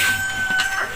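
A mother hen clucking and squawking close by, short agitated calls running together over a steady background hum.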